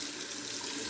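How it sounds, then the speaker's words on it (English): Water from a tap runs in a steady, even stream into a Fuji shaving mug, close and continuous with no talking. "I'm gonna add some more water to my Fuji mug"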